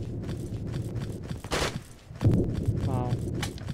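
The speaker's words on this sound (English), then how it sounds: "The gun sounds" SCAR-H rifle fire in the Roblox shooter Shellshock, with an ACOG and no suppressor: a few sharp shots and short bursts mixed with footsteps and other game noise, under a player's talk.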